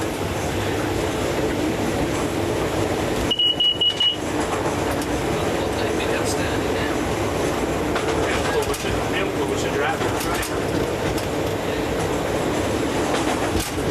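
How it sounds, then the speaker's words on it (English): An empty iron ore train rumbles steadily from inside the front locomotive cab near Brocklesby, heading to Immingham Dock, with a continuous broadband engine and wheel roar and a brief high tone partway through. "We are now in the front cab of a locomotive hauling an empty iron ore train on the up main line"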